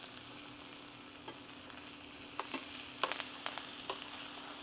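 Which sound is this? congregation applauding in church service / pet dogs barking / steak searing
steak searing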